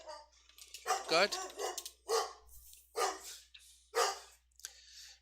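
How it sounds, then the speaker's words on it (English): A pet dog barks at home after the mail carrier's delivery, about four or five separate barks spaced roughly a second apart, fairly faint and distant, with a voice speaking briefly nearby. "And that's my dog barking."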